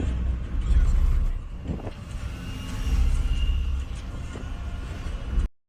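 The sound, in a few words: car driving during a driving class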